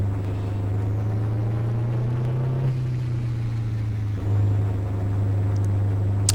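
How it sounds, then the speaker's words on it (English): A race car engine in the rFactor racing game idles in a steady, low droning rumble that holds nearly constant throughout, with a slight dip and recovery in the middle. "Alright, we've got it idling now."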